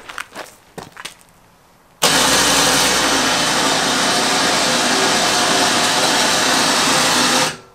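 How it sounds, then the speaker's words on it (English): An electric motorcycle winch built into a 2016 Alfa Gold 3705MC RV, a few faint knocks and then a loud, steady whirring drone that runs for several seconds before cutting off. "there's a winch built right in"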